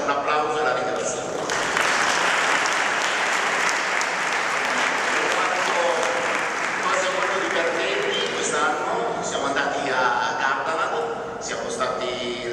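A crowd at a school Christmas concert applauds a teacher with loud, sustained clapping throughout, a few voices and cheers mixed in, tapering slightly near the end.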